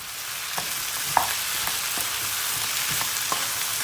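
Lightly salted potatoes fry in a pan with no water, giving a continuous sizzle punctuated by soft, regular stirring taps and scrapes.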